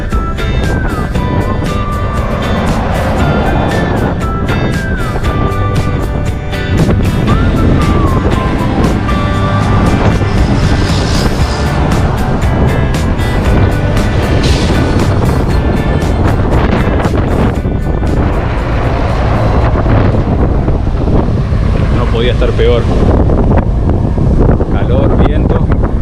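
Strong wind buffets the microphone on a hot highway in Mato Grosso do Sul, Brazil, during a bicycle tour, a loud steady roar throughout with passing trucks rumbling by and a voice talking over it.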